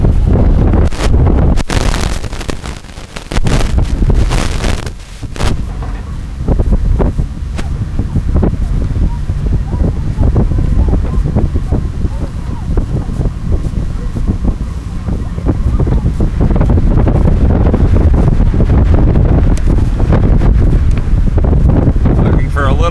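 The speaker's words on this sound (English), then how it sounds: "Tigers just continue to push through this tough wind condition." Strong, gusty wind roars steadily across the microphone at a women's collegiate rowing race on open water, loud and continuous, with commentary voices underneath.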